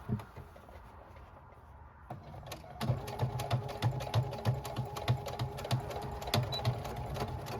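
A sewing machine stitches a quilted purse, starting with a few isolated clicks and then running in a fast, even mechanical rattle of needle strokes, close and clear.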